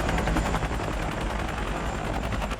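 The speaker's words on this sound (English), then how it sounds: "I like it when the helicopters fly in." Helicopters fly in over a war film soundtrack, a dense steady rotor chop pulsing loudly and continuously, with rapid gunfire-like bursts blended into the roar.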